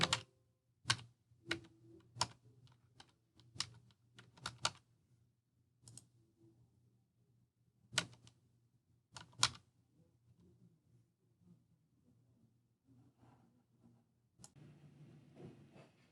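Credit card details being typed on a computer keyboard, sparse quiet key clicks in irregular bursts with pauses between them.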